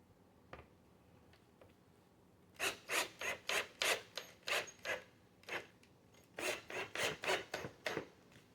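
Screws are driven into an 8-inch SKAR Audio subwoofer box built for a Grand Marquis, heard as a rapid run of loud, rasping bursts in quick rhythmic succession after a few quieter taps.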